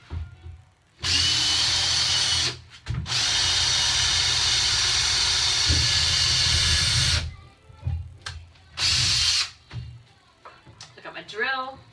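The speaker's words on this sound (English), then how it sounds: "using a diamond-tipped drill to get through this stuff" A diamond-tipped drill bores through cement board around a bathtub, giving long loud whining bursts that stop and start, with several shorter runs and quiet gaps between, and someone briefly speaking near the end.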